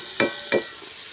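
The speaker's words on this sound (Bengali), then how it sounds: "দেখুন মশলা কষা হয়ে গেছে, ওর সাথে এঁচোড়টা দিয়ে নাড়াচাড়া চলছে।" Spiced jackfruit is stirred in a pan over a small clay stove, with two short, close scraping strokes over a steady background hiss.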